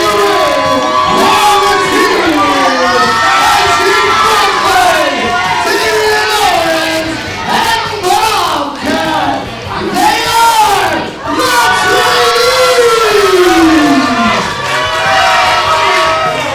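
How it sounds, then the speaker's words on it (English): A wrestling event crowd cheers, whoops and shouts loudly and continuously, with rising yells and wavering cries that swell and dip over about sixteen seconds. "These fans may want to cheer"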